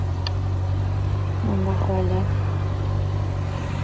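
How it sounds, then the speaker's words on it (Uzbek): A car engine idles to warm up after sitting unused for a week, a steady low droning hum throughout, with a short stretch of talking partway through. "Motor qizdirib qo'ydim."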